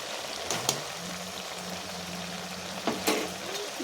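Ghee sizzles softly in a pan of bottle gourd cooked with milk, a faint, steady frying hiss with a couple of brief stirring knocks.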